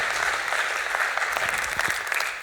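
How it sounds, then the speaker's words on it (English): A crowd at EVE Fanfest 2016 applauds steadily, a dense wash of clapping hands that holds throughout and tapers off slightly at the end. "I think these guys need a round of applause"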